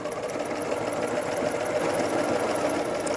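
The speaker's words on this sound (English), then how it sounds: "we are going to be sewing very close to secure the hem in place" A sewing machine stitches a fabric hem, running as a steady continuous whir with a fine rapid needle rhythm, close and even throughout with no talking.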